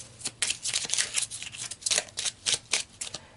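Tarot cards being shuffled by hand, a run of quick papery riffles and flicks in uneven bursts, close and clear with no talking.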